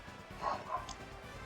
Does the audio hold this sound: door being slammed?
no